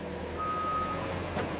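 A truck at a plastic bottle recycling facility sounds its reversing alarm, a steady electronic beep standing out over low engine rumble and factory noise.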